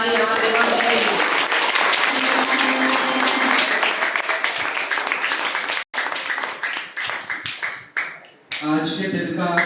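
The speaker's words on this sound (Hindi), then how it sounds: "तो एक बार फिर से जोरदार ताली हमारे देवांश जी के लिए।" Audience applause for a student quiz champion on a school quiz show, loud continuous clapping filling most of the clip, thinning out near the end, with voices speaking over it.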